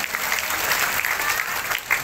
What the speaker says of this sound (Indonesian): Tepuk tangan untuk mereka semuanya.